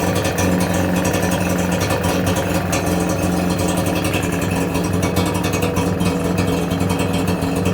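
A car engine fitted with a stainless steel exhaust runs at a steady idle up close, a continuous low rumble with no one talking.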